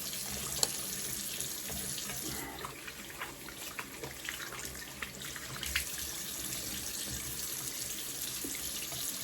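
Tap water running steadily into a bathroom sink while the face is wetted during a wet shave, a soft continuous splashing stream heard close but faint, with occasional small splashes from hands.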